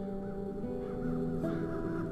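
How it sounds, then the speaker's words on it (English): Crows caw in The Dark Eye: Chains of Satinav, set over a steady bed of sustained tonal game music with no speech. "Those crows stem from the nether hells."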